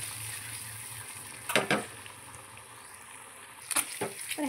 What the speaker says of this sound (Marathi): तर हे बघा गोल्डन फ्राय होऊ द्यायचं आहे आपल्याला अंड्यांना सगळ्या।